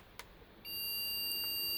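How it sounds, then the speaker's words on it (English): An MSI Z97 Gaming 3 motherboard, with corrosion and bent pins and fitted with only a CPU and no RAM, sounds a steady, loud, high POST beep. The beep begins partway through after brief quiet and holds to the end. "long beep, long beep. 3 long beeps."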